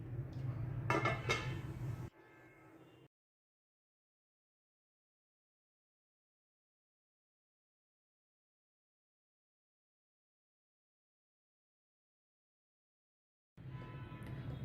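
A pot lid lifts off a chicken neck pulao with a short burst of metallic clatter and clinks as the rice is mixed. A long silence follows, then a faint rustle of activity returns at the end.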